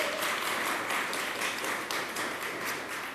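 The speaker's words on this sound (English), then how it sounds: "Let's give her a round of applause." Faint, steady applause at a mayoral press announcement on free broadband service, a dense wash of clapping from a small audience that continues evenly at a distance without cheering or speech.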